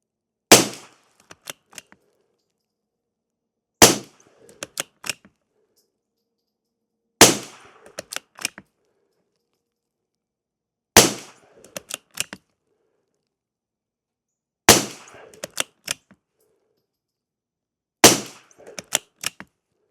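Six evenly spaced rifle shots with CCI subsonic hollow-point rounds, each a sharp close crack followed by a few quick clicks and clatters of the action, with silence between shots and no talking.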